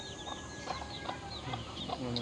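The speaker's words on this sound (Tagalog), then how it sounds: "Yung mga malalaking itim na na manok. So yun yung mga shamo namin." Large black Shamo chickens on a farm, mixed in with turkeys, clucking in scattered short calls over steady background farm noise, with a rooster-like call near the end.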